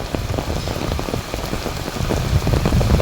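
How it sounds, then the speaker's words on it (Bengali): Steady rain falls and patters densely on surfaces nearby, a continuous close spattering of drops with no voices. "সে আইসেই বৃষ্টিতে ভিজা স্টার্ট করছে"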